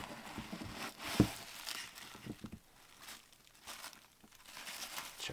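Tissue paper, original 1997 packing from an Air Jordan 12 Cherry sneaker toe, crinkles and rustles continuously at close range, soft and irregular with a few sharper crackles, no talk.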